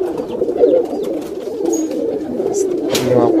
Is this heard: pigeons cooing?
yes